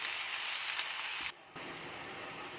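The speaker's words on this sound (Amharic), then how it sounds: "እሺ ይሄው ሽንኩርታችን እንደዚህ ጠበስ ብሎልናል።" Sliced onions sizzle steadily in oil in a pan for Ethiopian ertb, a soft, even frying hiss with a brief dip partway through before the crackle resumes.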